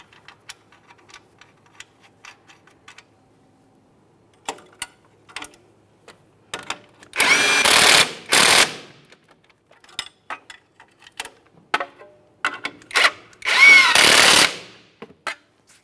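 An impact tool drives the wheel hub mounting nuts on a 2008-2017 Mitsubishi Lancer in two short loud bursts, mixed with scattered clicks and clanks of tools and parts between them.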